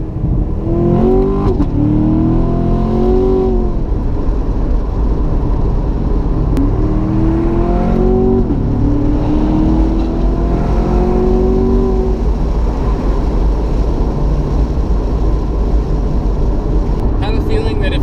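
A Corvette engine revs hard as it is floored, the pitch climbing in repeated rising sweeps over a constant low rumble, loud and close, with a voice talking over it.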